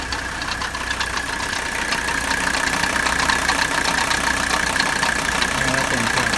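Idling 1985 Mercedes 300D diesel with a failing AC compressor, a steady clattering engine drone with a faint whine running through it, heard up close with some voices over it.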